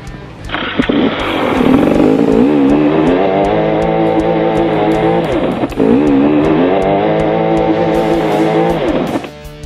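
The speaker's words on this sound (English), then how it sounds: "I'm busy spinning my wheel up and I'm not going anywhere" An enduro motorcycle stuck in a hole on a steep climb revs hard and holds high while its rear wheel spins in place, loud and close, with a brief dip midway before climbing again.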